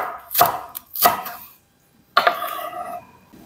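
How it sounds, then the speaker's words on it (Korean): A knife chops onion and green onion on a cutting board: a few sharp, close thuds, a short pause, then a quicker run of cuts. "대파는 어슷하게 썰어주세요."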